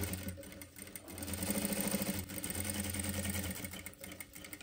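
A sewing machine stitches a velvet blouse in quick bursts, the motor whirring and needle chattering rhythmically, easing briefly between runs of stitching.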